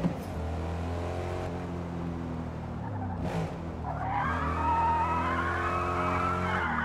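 A race car in the Forza Motorsport video game revs with a droning engine, then its tires squeal in a rising, sustained skid, close and continuous with no voices.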